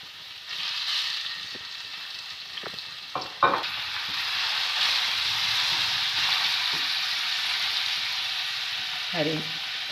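Onions sizzle in about six to seven tablespoons of hot oil for a restaurant-style handi chicken, a steady broadband frying hiss with a few scattered stirring clunks and scrapes, close and continuous with no voices.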